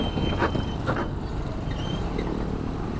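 Vehicles crossing a steel joint plate on a bridge along Quirino Highway produce heavy road rumble, with a few sharp metallic clanks as tires pass over the plate amid steady nearby traffic.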